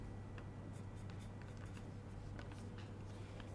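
A pen scratches briefly on paper, jotting down a back-width measurement while drafting a pattern for a loose loden sweatshirt; the strokes are soft, close and quiet, with no talking.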